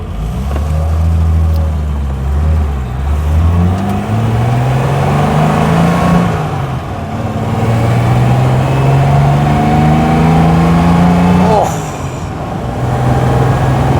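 A Triumph GT6 sports car engine revs hard through several gears, pitch climbing in repeated sweeps and dropping between shifts, loud and close throughout.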